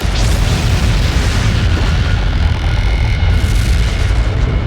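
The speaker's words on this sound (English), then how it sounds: "The explosion blows away the cloud of dust and rock and leaves behind a naked, newborn star." A newborn star's core igniting, shown as a massive explosion: a loud, deep, roaring boom that fills the whole clip with sustained rumbling and no talk.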